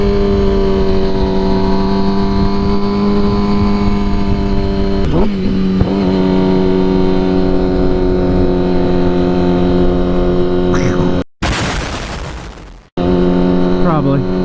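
A Yamaha R6 sport motorcycle engine runs close by with a loud, steady harmonic drone and a few brief throttle blips. A sharp burst of noise cuts in near the end, and voices may be faintly present.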